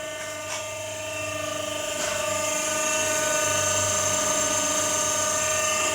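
A hydraulic square pipe cutting machine runs with a steady tonal mechanical whine that slowly grows louder, with a couple of sharp clicks early on and no voices.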